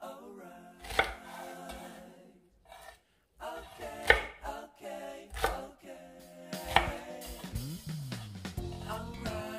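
A knife chops butterbur stalks on a wooden board in irregular bursts of close, crisp thunks and cuts, with short pauses between runs and some faint kitchen clatter.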